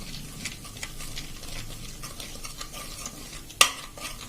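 Chilies fry over a low flame in a pan with a faint steady sizzle as a spoon stirs them in repeated soft scrapes, and one sharp metallic clink sounds near the end, with no talk.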